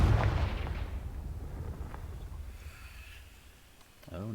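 A Confringo fire-blast spell cast in Hogwarts Legacy bursts out as a loud, booming blast that rolls off and fades over several seconds, with a brief rising whoosh near the end.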